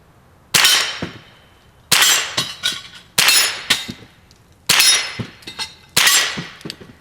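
Five sharp Ruger 10/22 Takedown rifle shots fired with CCI subsonic ammunition, each a loud close crack followed by a quick metallic ring or clang, spaced about a second or more apart with no voices.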